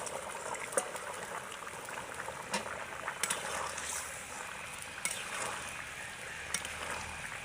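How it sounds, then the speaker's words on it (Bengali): A cauliflower and fish curry with a thin gravy comes to a boil in a pot, giving a steady bubbling, simmering hiss throughout with small pops and spits, fairly close and without talk. "তরকারিতে বলক আসছে।"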